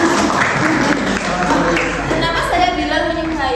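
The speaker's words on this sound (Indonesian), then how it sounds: "Boleh tepuk tangan dulu dong" Students in a classroom clap together in a broad, steady wash of applause, mixed with voices talking over it.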